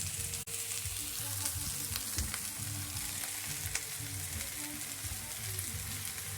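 Mushrooms frying in a pan, a steady dense sizzle that holds evenly throughout, with faint stirring scrapes underneath.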